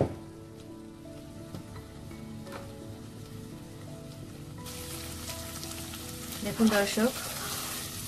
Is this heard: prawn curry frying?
yes